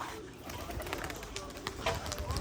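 Rajshahi Giribaj pigeons at a loft, freed after long confinement in a cage, cooing and calling amid steady rustling background noise, with voices present nearby.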